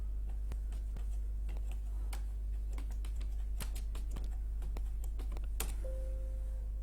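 Keystrokes on a computer keyboard while typing a level name in Revit software, a steady run of light clicks and taps over a constant low hum, with a few sharper key presses; no one speaks.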